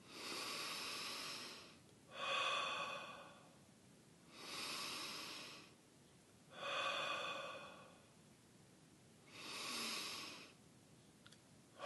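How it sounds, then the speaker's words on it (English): Slow, steady breaths drawn in through the nose and let out through the mouth during a guided meditation, six soft airy swells alternating in an even rhythm, close and quiet with no talking over them. "breathing in through your nose and then out through your mouth."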